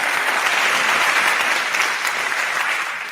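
Dense, steady applause from a large TEDx audience fills the whole stretch, loud and continuous with no break, tapering only slightly at the very end.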